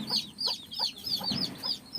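A chicken clucks repeatedly at close range, a string of short, rhythmic calls about every third of a second, with no talk over it.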